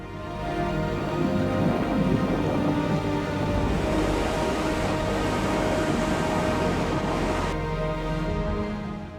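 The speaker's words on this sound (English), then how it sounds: "The roar of the waterfall echoes through the canyon" A waterfall thunders into a canyon, producing a dense, continuous roar of falling water that stays loud and unbroken throughout.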